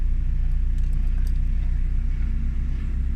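A Nissan Sunny B11 130Y engine idling smoothly and steadily, a low even rumble close by with faint light jingling above it.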